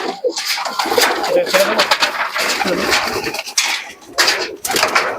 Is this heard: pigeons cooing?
yes